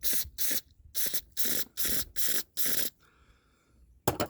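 Aerosol cleaner sprays in six short, loud hissing bursts into the emulsion tube jet of a small boat motor's carburetor, followed by a quiet pause and one more burst at the end.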